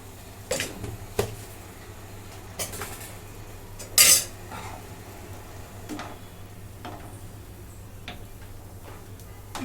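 Pav bhaji vegetables being stirred and mixed in a pan, with sparse metallic clinks and scrapes of a utensil against the cookware over a low steady hum, one louder clatter in the middle.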